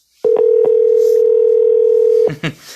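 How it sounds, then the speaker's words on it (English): A loud, steady telephone dial tone holds for about two seconds between short clicks, heard on the line during real estate cold calls to expired and for-sale-by-owner listing leads. "But right now I'm making calls in my San Diego campaign."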